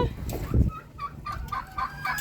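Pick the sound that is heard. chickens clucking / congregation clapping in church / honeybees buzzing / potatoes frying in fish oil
chickens clucking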